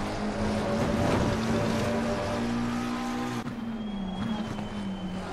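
A Porsche race car at the Valencia circuit in a sim racing game drones past with a steady, loud engine whine, the pitch holding then dropping as it pulls away.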